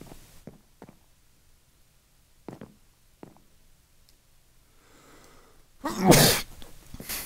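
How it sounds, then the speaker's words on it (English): A single loud, close sneeze blasts straight into a microphone after a few faint clicks and taps, bursting out abruptly near the end. "I did not mean to sneeze into the mic."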